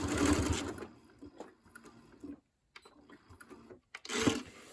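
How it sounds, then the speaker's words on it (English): A sewing machine runs in short bursts while back stitching the binding on a quilt, a loud stretch of stitching, then brief pauses and another run near the end. "I'm going to back stitch a few stitches"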